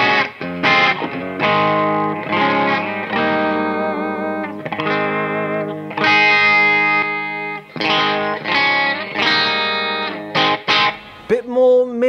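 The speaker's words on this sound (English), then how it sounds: "So this is a clean sound on the PV6505 with the full Duncan JB humbucker." Clean electric guitar tone from a PV6505 with a full Duncan JB humbucker, played as a steady run of chords and picked notes, loud and close with a slight effects shimmer, alone without talk.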